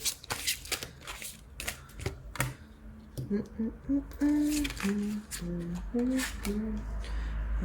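A deck of tarot cards is shuffled by hand with quick riffling and soft flicking taps, close up, while a voice hums or speaks softly in the background.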